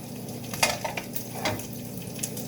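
Butter frying in a pan for chocolate chip pancakes gives a low, steady sizzle, with a few soft scraping and clinking touches from a utensil.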